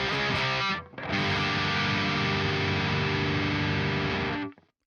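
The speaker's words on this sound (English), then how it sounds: "And now I play my favorite amp here." Electric guitar played through a favorite amp model in Tonex software, a dense distorted chord ringing out loud for several seconds after a brief break, then cut off sharply.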